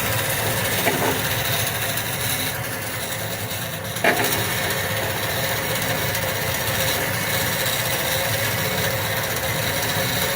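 A Metor MB400 band saw motor runs with a steady mid-pitched hum, a brief clunk partway through, and no talking.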